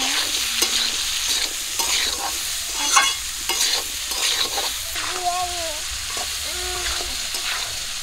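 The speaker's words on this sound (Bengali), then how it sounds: "লবণ হলুদটা দিয়ে ভালো করে কাঁঠালগুলোকে এখন ভেজে নেব।" Boiled jackfruit pieces with turmeric and salt frying in a pan after onions and green chillies, a steady close sizzle broken by repeated scraping stirs of the spatula, with no talk.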